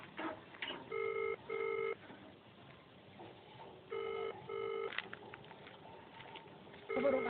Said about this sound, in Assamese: 1 মিনিট, মই ফোন এটা আহিছে, ফোনটো কৰি লওঁ।